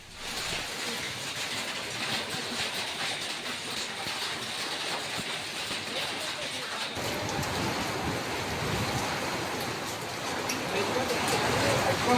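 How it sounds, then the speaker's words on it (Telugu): Hailstorm with heavy unseasonal rain and gusty winds over farmland in East Godavari, Andhra Pradesh: a dense, constant roar of downpour that swells louder toward the end, with faint muffled voices underneath. "భారీ ఈదురుగాలులతో కూడిన వడగళ్ల వాన దంచికొట్టింది"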